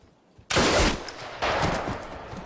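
Gunfire from the Band of Brothers war series, heard as two loud bursts of rapid shots that come in quick succession, with no voices.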